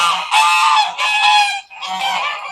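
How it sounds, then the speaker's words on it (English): Tufted American Buff geese, two females and three males, honk loudly at close range in three long, harsh bursts with brief pauses between. "here they come, honking away"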